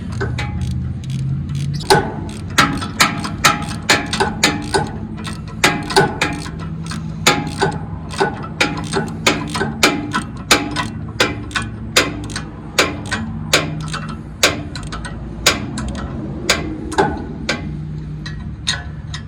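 A ratchet tightens the knife bolts on a Bandit XP65 wood chipper, making a long series of sharp, close clicks at an uneven, fairly steady pace over a low background hum.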